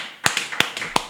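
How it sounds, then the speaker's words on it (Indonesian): A few scattered handclaps at a talk-show style interview, sharp and close, about five separate claps spread unevenly over a second with no voices. "Tepuk tangan."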